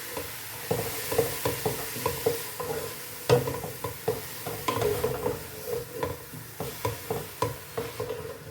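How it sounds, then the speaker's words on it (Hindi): Grated carrots being stir-fried in a pan for carrot kheer, a soft continuous sizzle broken by repeated rhythmic scrapes of a spatula, likely wooden, stirring at close range, no talking. "चार से 5 मिनट हमने गाजर को अच्छे से भून लेना है।"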